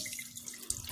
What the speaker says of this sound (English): we want to pour off some of this grease